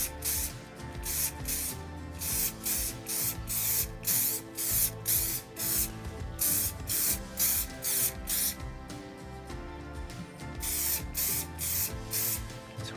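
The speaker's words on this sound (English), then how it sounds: "It's hard to spray and try to" Muc-Off Fabric Protect is sprayed onto a motorbike jacket in repeated short aerosol bursts, a loud close hiss pulsing in a steady rhythm with brief gaps, without speech.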